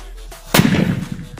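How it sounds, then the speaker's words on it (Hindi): A lit beam firecracker dropped into a hole in the ground goes off in a single sudden, loud bang during Diwali cracker testing. A rumbling, debris-filled tail follows the blast after a quiet lead-in. "तो नेक्स्ट में बीम वाला ये हमारे पास क्रैकर गाइस, इसे जलाते हैं और डालते हैं इस गड्ढे के अंदर।"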